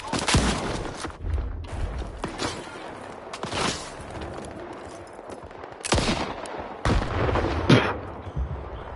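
Gunfire between NPCs in the video game STALKER 2 crackles in several sharp bursts, single shots and short volleys spread across the scene at a moderate distance, with quieter combat rumble between them.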